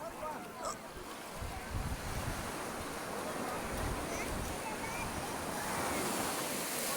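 Sea waves at Thiruchendur beach make a steady, broad surf roar mixed with gusty wind buffeting the microphone, with voices faintly audible in the background throughout.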